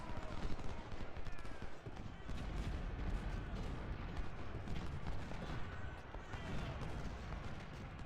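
Civil War musket volleys crackle and pop in rapid, overlapping bursts during an Ultimate General battle, with low booms underneath, a dense and continuous stream of gunfire at moderate loudness.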